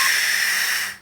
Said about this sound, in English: Blowing works, but the air compressor kind of works.